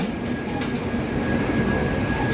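Steady rumble of a Raipur–Visakhapatnam passenger train in motion, a continuous low roar with a faint high whine running through it and no talking.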